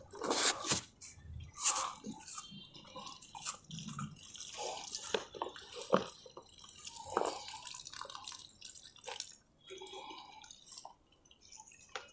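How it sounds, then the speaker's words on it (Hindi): Water poured onto a newly planted kinnow citrus sapling in a polybag during home organic farming, giving close, irregular dripping and splashing with soft trickles running throughout. "तुरंत बाद पौधा लगाने के बाद इसको पानी दे देना है।"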